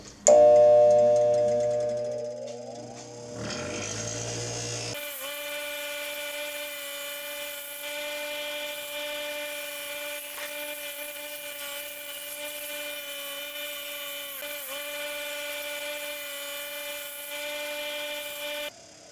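A wire brush spins on a power tool to clean engine parts for a Miata forged engine build. It starts with a short whirring wind-up, then holds a steady, shrill, high-pitched whine for more than ten seconds.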